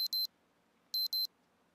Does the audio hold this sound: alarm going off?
yes